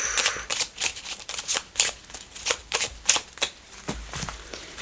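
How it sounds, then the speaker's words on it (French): Oracle cards shuffled and drawn from a deck, a run of quick, crisp papery flicks and taps at close range, steady and fairly loud with no talking. "je vais vous prendre une petite carte plume que j'avais sous la main"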